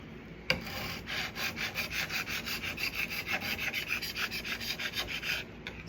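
Hand scraper pulled in steady, rhythmic strokes across a wooden tabletop, rasping the old finish off, close and fairly loud, with a sharp knock at the start.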